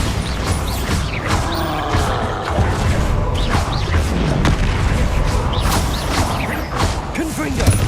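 Magical blasting spells cast in a Hogwarts Legacy fight, loud booming impacts and crashing bursts layered over dense, continuous combat noise with creaks and thuds throughout.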